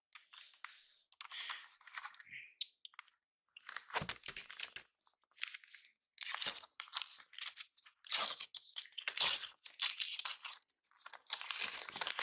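A birthday card is opened by hand with soft paper tearing, crinkling and rustling, coming in short irregular bursts with quiet gaps between, close and fairly faint.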